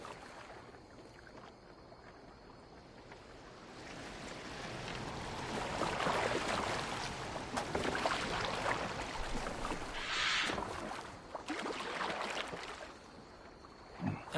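A boat moves across water in the Assassin's Creed Valhalla video game, with steady splashing and rushing water and wind that swell in the middle and then ease, heard alone without voices.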